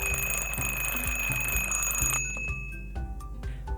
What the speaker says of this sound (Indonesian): Jangan sampai kita tidak peka lagi sama bunyi alarmnya.